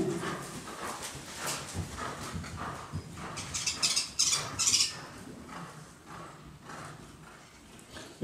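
Rhythmic hoofbeats of a horse ridden during a show jumping clinic, repeated muffled thuds with a brief louder jangling burst midway, and a dog whimpering faintly in the background.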